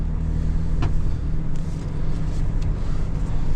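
A car driving along a road with two new rear tyres, a steady loud rumbling drone of engine and road noise that holds constant throughout, heard from inside the car with no talk.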